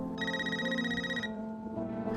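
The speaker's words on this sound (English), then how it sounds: "then your phone rings." A phone rings with a bright electronic ringtone of repeated high chirping tones over a low steady background, the ringing stopping partway through.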